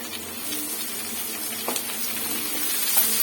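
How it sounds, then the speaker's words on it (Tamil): Green and red capsicum sautéing in a pan give a steady soft sizzle with a few light clicks of stirring, with no talk. "நல்லா வதக்கிடுங்க."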